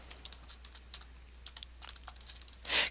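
Rapid, irregular clicking of a computer keyboard as values are typed into an Excel spreadsheet, close and fairly quiet, with a slightly heavier keystroke burst near the end.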